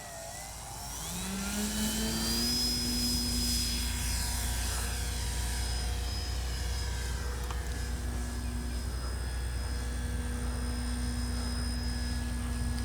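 A Dynam DHC Beaver V2 RC airplane takes off from grass without flaps, its electric motor whining up in a rising, steady drone that holds loud and close, with shifting tonal harmonics as it climbs away.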